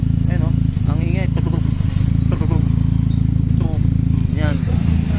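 A 2007 Honda FD idles roughly with a misfire after a spark plug change, giving a loud, steady, uneven rumble and sputtering exhaust close by. Someone talks over it.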